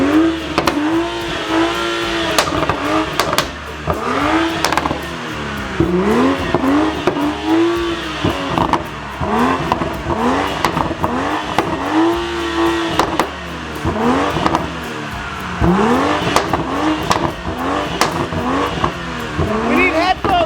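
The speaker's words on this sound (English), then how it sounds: "let's show them what the BMW can do before we go." A BMW revs and accelerates hard, its engine rising and falling in repeated loud surges with some tire squeal. The car sounds close and powerful throughout, and voices talk over it.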